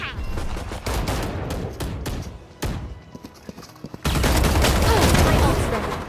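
Gunfire and combat effects in the tactical shooter Valorant, loud and dense bursts of shots with a brief sparse lull before a sudden heavy barrage, with voice chat talking under it.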